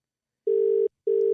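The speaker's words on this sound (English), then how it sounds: "Okay, it's ringing." A phone call rings out on the line, two long, steady electronic ringback tones separated by a short gap, clear and fairly loud with silence around them.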